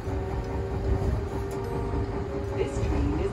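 Romancecar limited express train running, a continuous low rumble with steady rail hum and faint tonal whine, heard from inside the carriage without clear speech.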